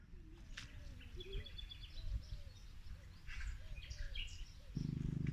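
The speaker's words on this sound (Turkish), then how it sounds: "Kuş sesleri de mükemmel böyle." Several birds chirp and call softly in the distance over a low outdoor rumble at a lakeside picnic area in Akçalar, Bursa, with short whistled notes scattered throughout.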